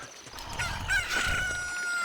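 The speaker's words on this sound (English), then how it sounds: "Okay, the chicken has hatched from the egg." A rooster crows at sunrise in a classic Zelda video game, one drawn-out cock-a-doodle-doo call, loud and close, with no talking.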